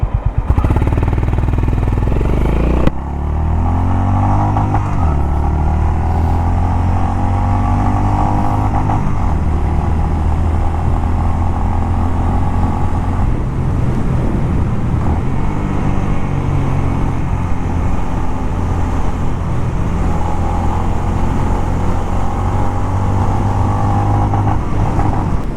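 Honda H'ness CB350 motorcycle pulled hard through the gears, a loud steady engine drone with rising revs and a pause at a shift early on, heard close from the rider's position with wind noise and no talk.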